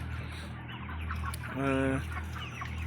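Broiler chickens at a poultry farm, about 42 days old, cluck near at hand, with one clear, loud cluck in the middle over a constant low barn hum.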